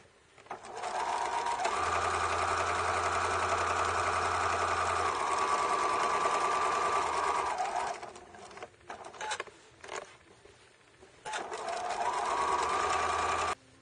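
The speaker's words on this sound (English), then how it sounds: "we're going to stitch the 2 open sides that are not finished" A sewing machine runs in long steady bursts, stitching the two unfinished open sides of a small fabric pin cushion scrap bag, with brief pauses and handling noise between seams.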